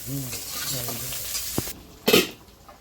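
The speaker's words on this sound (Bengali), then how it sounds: "সেই সজনের ডাঁটা ভেজে তরকারিতে দিয়েই তারপরে" Drumstick pieces (sajne danta) frying in a pan as they are stirred, producing a soft steady sizzle beneath a voice talking briefly, followed by a sharp clatter of a utensil near the end.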